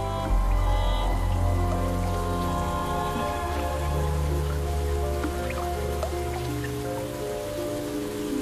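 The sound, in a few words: rain falling in a forest in spring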